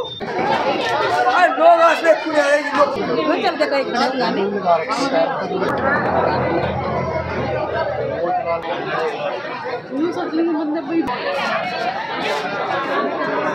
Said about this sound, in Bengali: আর পেছনে সত্যি অনেক ভিড়, অনেক মানুষের ভিড় কিন্তু পেছনে রয়েছে